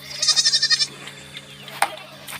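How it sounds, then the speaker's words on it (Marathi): Young goat kids bleat in a quick series of six or seven close, wavering cries at the start, followed by quieter farmyard rustling and a brief knock. "हे पिल्लू आहे ना, त्या शेळीची पिल्लं"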